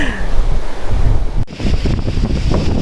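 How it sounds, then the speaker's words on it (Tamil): Strong wind at a hilltop viewpoint in Palamalai buffets the microphone in a loud, continuous roar with gusty surges and a sudden change in tone partway through; no one speaks. "சரியான காற்று."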